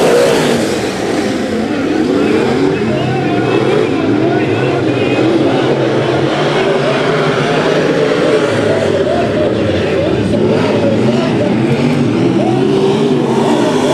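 Race cars at Bakersfield Speedway take the green flag three wide, a dense, loud roar of several engines revving together under an excited announcer's commentary.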